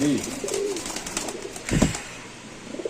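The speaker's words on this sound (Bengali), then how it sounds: "এটা হলো নর কবুতর দেখেন" A male racer pigeon coos close by in a few throaty, rolling phrases, with a sharp knock-like clatter partway through and faint background noise.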